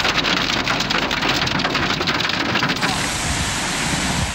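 Heavy rain pouring down during a severe downpour in the Marmara region, a loud dense continuous hiss of water hitting surfaces, steady throughout with no voices.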